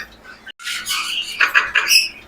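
Turquoisine parrots at a bird farm give a string of sharp, harsh squawks close by, in short bursts separated by brief pauses.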